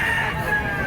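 A stag rooster crows at a poultry market in Padre Garcia, Batangas, a short, loud, strained call over busy market noise.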